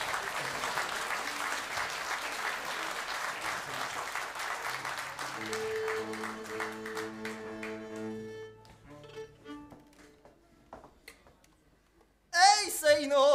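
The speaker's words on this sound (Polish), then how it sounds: "Można klaskać." Spectators at a highland robbers' dance contest for couples clap together, a dense wash of applause that thins out as folk melody and singing take over, then a burst of voices near the end.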